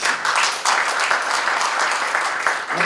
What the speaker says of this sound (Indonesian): kita beri tepuk tangan buat Yesus